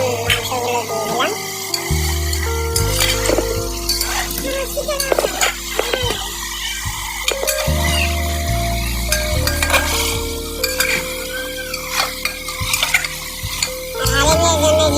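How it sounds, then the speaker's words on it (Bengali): Pieces of meat frying and being stirred in a pan of hot oil for haleem, a loud, close, continuous sizzle with scraping and clattering of the spoon, under intermittent background music. "এটা যখন বন্ধুরা ভালোভাবে কড়ার চলে এসেছে তখন মাংসগুলো দিয়ে দিলাম।"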